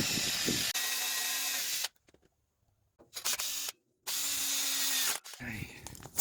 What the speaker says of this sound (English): I am going to start drilling some little air holes along here.